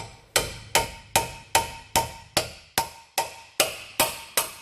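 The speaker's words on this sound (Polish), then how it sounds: "Więc młotek bierzemy w ruch. Trzymamy i uderzamy." A steel hammer pounds the control arm ball joint on an Opel Astra, eleven evenly spaced sharp metallic blows, loud and close, with each ringing briefly before the next strike and no talk.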